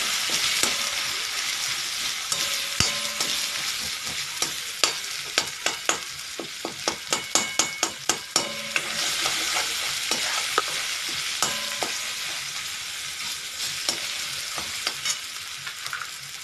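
Red chili powder roasting with spices in a pan for a sprouted moth bean and cauliflower kurma, with a steady sizzle under repeated close scraping and stirring strokes that cluster into a quick run midway.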